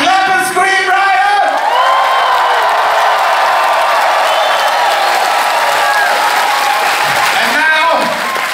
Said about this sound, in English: Clap and scream, Ryan!